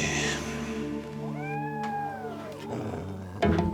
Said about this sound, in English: She hears a cat.